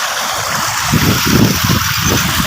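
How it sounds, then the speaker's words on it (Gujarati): Well water runs through an irrigation channel with a loud, close, rushing gurgle, broadband and steady with slight surges, and no voices. "હાલો આ જો ધોરિયામાં પાણી ચાલુ"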